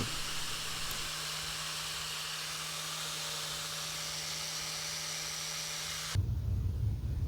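A grinder runs steadily for tool restoration with a constant high-pitched whir and hum, then abruptly shifts to a lower, rougher tone near the end, with no speech.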